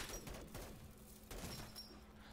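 Faint bursts of gunfire aimed at a zombie boss in MW3 Zombies, a few soft broadband volleys spread over two seconds against a low steady hum.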